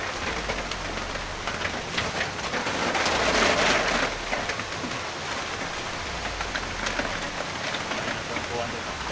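Stormy weather rushes past outdoors as a steady wash of strong wind and rain-like noise that swells for a moment in the middle, with a few distant knocks.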